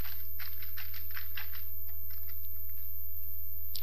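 Steady bursts of computer keyboard typing while C++ code is entered, a quick run of light key clicks that thins out toward the end, close and fairly quiet over a constant low electrical hum.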